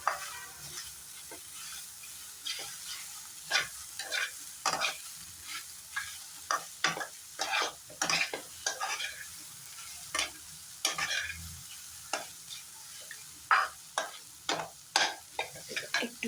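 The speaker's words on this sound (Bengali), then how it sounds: "একটু সময় ভালো করে ভেজে নেব।" Breakfast Maggi noodles fry in a pan on a low gas flame, with a quiet continuous sizzle and regular spatula scrapes and taps repeating at an even pace, close and fairly soft.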